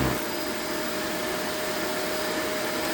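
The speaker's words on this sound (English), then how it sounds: "So I'm going to vacuum this area over here." A Shark PowerDetect AZ4000 upright vacuum cleaner runs steadily up close in detect mode, a loud continuous motor whine and airflow roar holding even for the whole stretch with no talk.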